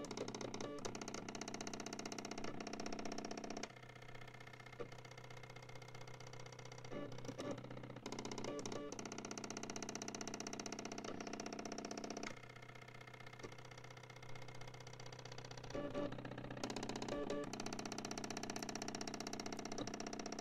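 A mini laser engraving machine runs continuously with a steady mechanical hum and buzz that shifts in level every few seconds as it moves, fairly quiet and with no talking.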